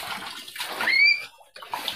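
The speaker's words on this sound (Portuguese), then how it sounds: "Tá enchendo de água" A swimming pool filling with water, heard as a steady rush and splash of pouring water for about two seconds, with a brief dip near the end.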